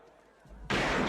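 Gunshot sound effect, a sudden loud, broadband blast that follows a quiet rumbling lead-in and sustains briefly at full strength.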